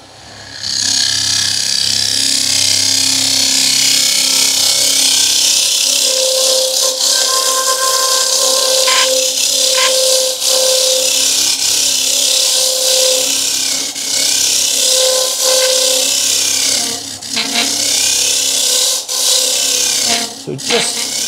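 A turning tool rasps steadily against a wooden open vase spinning on a woodturning lathe, a continuous loud scraping hum with shifting pitch as the cut blends the shape toward the final finish, with brief pauses near the end.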